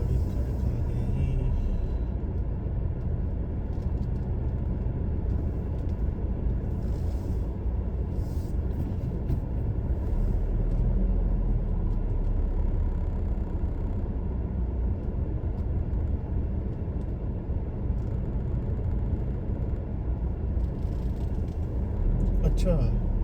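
Low, steady rumble of a car driving along a road near a hospital, heard from inside as constant road and engine noise while people talk over it.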